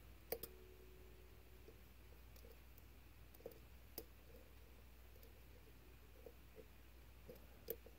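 Pins click while a dimple lock is picked: sparse, tiny metallic ticks scattered across a quiet background hum, with one or two slightly sharper clicks.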